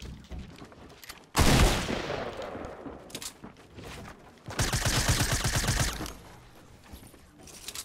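SMG fire in Fortnite comes as two rapid bursts of shots, loud and close, with quieter game sounds in between.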